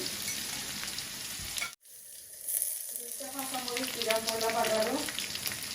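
Garlic hits hot oil with a sudden bright sizzle after a brief silence, the frying crackling steadily and growing louder, close up.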